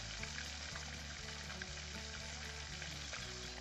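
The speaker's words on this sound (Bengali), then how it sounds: "মাছগুলো এখানে ভাজা হচ্ছে" Large pieces of Bhola fish fry in hot oil in a wok, a dense continuous sizzle that stays steady and loud throughout with a low rhythmic hum underneath.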